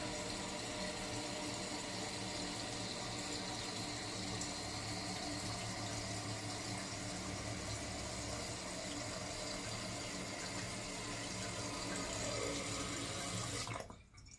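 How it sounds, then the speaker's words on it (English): A new toilet's tank refilling with water after a flush in a bathroom: a steady, constant rushing hiss of running water that continues unbroken, then cuts off abruptly at the end. "Back to filling the tank."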